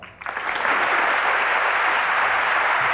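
An awards-show audience at the 17th Annual Country Music Awards bursts into applause, rising within half a second into dense, sustained clapping that fills the hall to the end.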